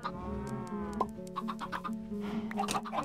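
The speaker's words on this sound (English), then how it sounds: "Two more chickens." Chickens cluck in the Minecraft video game, a few short close calls over a steady layer of background game music.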